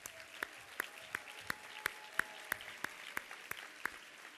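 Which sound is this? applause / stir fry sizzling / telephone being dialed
applause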